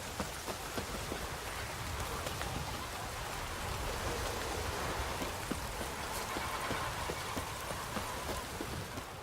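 Steady rain pours down in the video game The Witcher 3: Wild Hunt, a dense continuous patter of drops on surfaces with no pauses, fairly close and even throughout.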